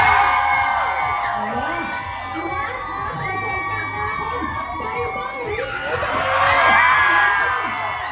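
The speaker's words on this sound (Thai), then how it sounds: "ขอ เสียงกรี๊ดนะคะสำหรับนะคะคนที่มารอนะคะคุณเจดเจดี่มัจอง" A large crowd screaming and cheering loudly and continuously at a fan event, with high-pitched shrieks and whoops swelling near the end.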